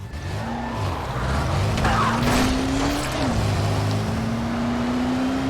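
A car in the video game Dying Light The Following pulls a handbrake skid, a long, loud tire squeal sliding in pitch over a low engine drone, with a brief voice in the background.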